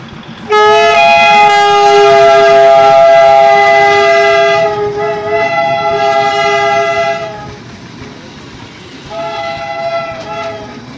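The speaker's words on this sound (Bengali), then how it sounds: "ডিজেল ইঞ্জিন চলে গেল ঘুম মনেস্ট্রির সামনে দিয়ে।" A diesel locomotive's horn blares loudly and long on the Darjeeling toy train line at Ghum Monastery, sounding again in shorter blasts as the locomotive rumbles past nearby.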